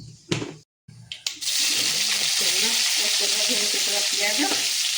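A tempering of spices and chilli hits hot mustard oil: a few knocks and clatters, a brief silence, then a loud, continuous close-up sizzle that holds steady to the end.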